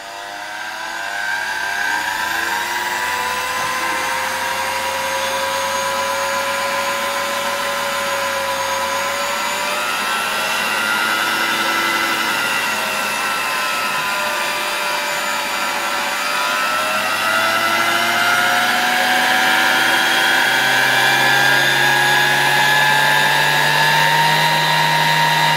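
A 1966 Elector vacuum cleaner motor runs at gradually changing voltage, a loud continuous whine whose pitch slowly rises and falls over a steady airy rush, with no voices.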